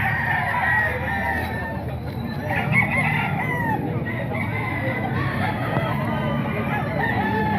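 Roosters crow over a constant crowd din at a chicken market in Grotto tiangge, with clucking and crowing running loud and steady throughout.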